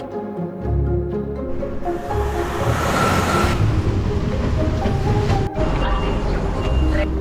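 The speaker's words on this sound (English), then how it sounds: "Attention, fast train to Naples arriving on platform." A train rolls into a station near Pompeii with a loud, close rumble and rising rail noise that builds and holds, with an announcement or voices heard over it.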